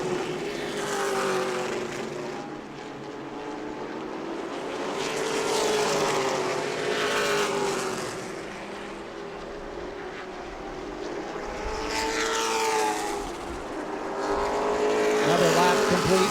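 Race cars lapping the New Smyrna track, their engines droning continuously with repeated swells as the pack passes by, loud and fairly close, alone without talk.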